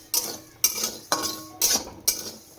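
A spoon scrapes and clinks against a pan while poppy seeds and cumin heat in it. Five crisp, evenly spaced strokes ring close and fairly loud, with quiet gaps in between and no speech.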